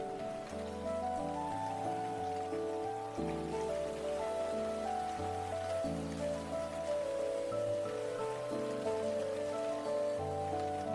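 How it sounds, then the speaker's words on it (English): Steady rain keeps up a constant hiss beneath a slow melodic music bed, unbroken from start to finish with no voices. "Watching the rain feels good"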